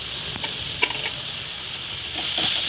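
Peanuts and grated coconut sautéed with salt in a pan for kharda, giving a steady soft sizzle with faint stirring scrapes and an occasional clink, no talking.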